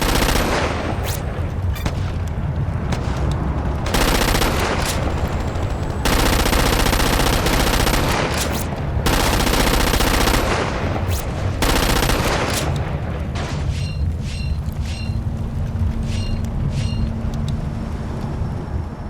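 Sustained bursts of automatic gunfire and single shots from the Xbox 360 game Rainbow Six Vegas 2, loud and dense with brief pauses between volleys.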